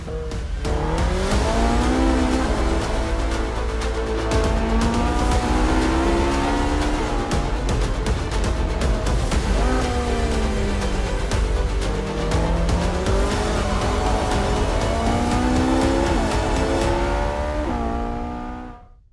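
Ferrari 458 Spyder with its naturally aspirated V8 driving hard, the loud close engine wailing through repeated rising and falling gear changes for most of the run before cutting off abruptly at the end.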